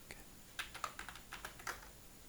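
Someone typing the ipconfig command on a computer keyboard: a short, quiet burst of about ten light key clicks at an uneven pace, with no talking.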